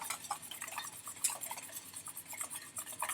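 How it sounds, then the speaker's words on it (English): A whisk beats oil slowly poured into aioli sauce in a bowl, giving a quick, steady run of light metallic ticks and scrapes, close and fairly soft, with no voices. "With the oil, right, we're slowly adding it, we're whisking"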